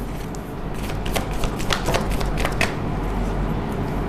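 Tarot cards shuffled and drawn from a deck, a steady papery riffle of flicks and slides, close and fairly loud, with no talk.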